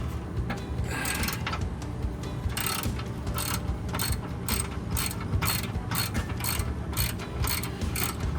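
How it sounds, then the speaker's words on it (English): A hand ratchet loosening a nut on a rear off-road steel bumper, with quick repeated clicking strokes in short bursts, close up over a faint background hum. "Now just here, we're going to take this nut off."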